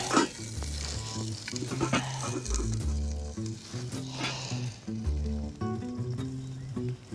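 Cut vegetable halves brown cut side down in a lidded pan, a soft continuous sizzle under louder deep, rhythmic, tonal background sounds, with no talking.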